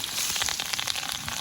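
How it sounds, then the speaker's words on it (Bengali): Carrots and chillies fry in hot oil in a wok, a steady, close, bright sizzle with dense crackling spatter throughout. "তো আমরা এখন গাজর আর লঙ্কা আছে এখানে দিয়ে দিব ভালো করে।"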